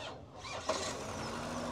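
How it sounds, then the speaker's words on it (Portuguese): A 2018 Chevrolet Spin at a used car market in Caruaru cranks briefly and catches, then settles into a steady, quiet idle, heard from a short distance. "Vamos escutar aqui o ruído do motor."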